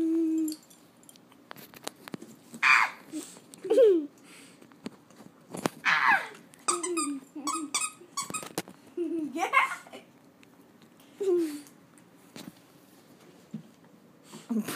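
A playful puppy makes intermittent high squeaks and low growly grunts in short bursts, separated by quiet pauses and soft shuffling in a room.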